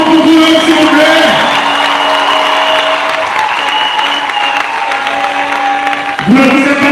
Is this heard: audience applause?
yes